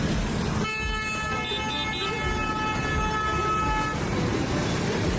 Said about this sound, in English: At traffic jams, people honk their horns for a long time